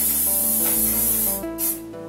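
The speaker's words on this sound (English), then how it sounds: "you just take your hairspray and you spray it" Hairspray hisses from an aerosol can onto a styled Ariel wig, a close, steady spray lasting about two seconds with slight variations in intensity.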